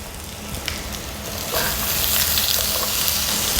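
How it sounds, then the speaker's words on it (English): Potato frying in a pan over medium-high heat gives a close, steady sizzle and crackle that grows louder and fuller about halfway through. "You want to cook this potato about medium high"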